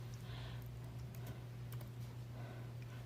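Soft, quiet keystrokes on a computer keyboard tap out a short word, a few light clicks scattered over a low steady hum, with no voices.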